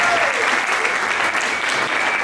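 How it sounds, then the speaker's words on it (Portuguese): Studio audience on a Brazilian night talk show bursts into steady applause for a guest named Chaves, a dense, continuous clapping close and loud throughout. "uma salva de palmas para o Chaves, por favor."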